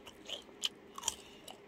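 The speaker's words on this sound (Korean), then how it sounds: "바삭바삭 소리 좋지 않나요?" Crunchy bites into fried chicken coated in a sweet sauce, heard as several short, crisp crackles spread over under two seconds, fairly close but quiet, with no talking.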